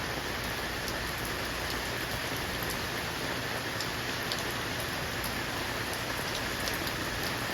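Steady rain pours down on tropical monstera plants, a dense, even hiss of drops pattering on the broad leaves, constant and unbroken with no voices.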